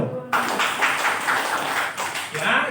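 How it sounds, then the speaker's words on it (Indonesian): An indoor church audience at a training session for elders and Sunday school teachers bursts into clapping, a dense, steady patter of many hands that continues after a brief voice at the start. "Tepuk tangan dong"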